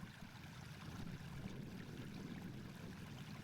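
Spring water bubbles up from among rocks on the Irish coast, a quiet, steady gurgling trickle with no voices.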